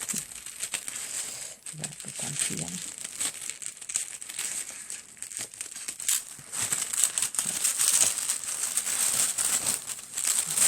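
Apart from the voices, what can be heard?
tissue paper being unwrapped and crinkled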